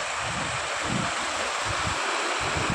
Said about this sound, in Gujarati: ચાલુ પાણી છે, વરસાદ પણ ચાલુ છે